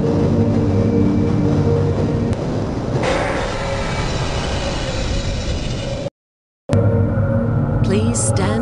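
In the Half-Life video game, a tram rumbles along a rail inside a facility, a steady loud clatter that drops out abruptly for a moment and then resumes.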